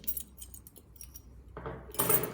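Keys clipped to a large carabiner, carried in a small pocket of an urban everyday-carry pouch, jangle close by in a few quick metallic bursts, the loudest shake coming at the end.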